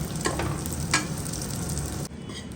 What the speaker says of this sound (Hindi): अब हम लोग किशमिश भी भून लेंगे इसमें